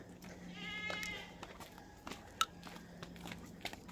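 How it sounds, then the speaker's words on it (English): A goat bleats in short, wavering calls early on, fairly faint amid outdoor background noise and a few small knocks. "So we are going now to see the goat."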